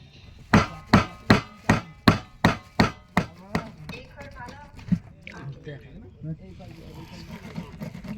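A knife chopping through tengra fish on a board, about a dozen sharp evenly spaced thuds, then quieter scraping and handling noises.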